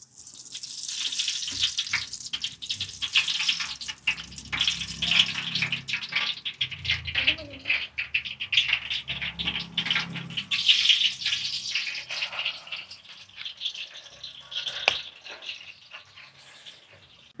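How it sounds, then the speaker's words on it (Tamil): Oil poured into a heating pan for chicken dum biryani crackles and hisses close by, an irregular spattering sizzle that rises and falls in bursts over a dark low end. "இப்போ எண்ணெயை விடுவோம்."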